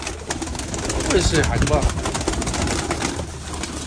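Pigeons cooing in a loft, low throaty coos rising and falling near the middle of the stretch, with someone talking over them and a faint high electronic whine running throughout.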